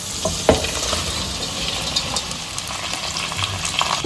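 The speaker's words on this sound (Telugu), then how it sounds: "ఇప్పుడు దీంట్లో మనం చికెన్ పెట్టుకున్నాం కదా, చికెన్ వేసుకోవాలి" Boneless chicken goes into hot oil tempered with curry leaves for a chicken pickle, producing a steady, close sizzle with a knock of the utensil early on and light stirring scrapes.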